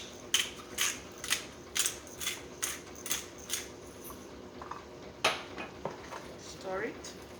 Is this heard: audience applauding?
no